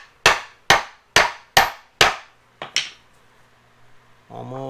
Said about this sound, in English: You just kind of want to lightly tap them and they slide in.